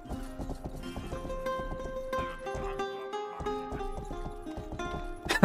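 Horse hooves clip-clop steadily through a medieval town in the game Rustler, a rhythmic clatter mixed with game music and effects, with a brief louder burst at the end.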